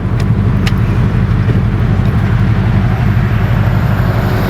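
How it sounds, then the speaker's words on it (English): A Shelby Cobra's big V8 rumbles through its side pipes, a loud, steady, deep engine drone holding close and constant throughout with no talking. "you got these great side pipes, that big V8 noise coming out under the hood"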